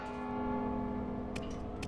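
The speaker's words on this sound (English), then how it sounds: "Don't you hear the bell?" A bell rings in Mark of the Ninja, one sustained tolling tone that hums and slowly decays, with faint clicks near the end.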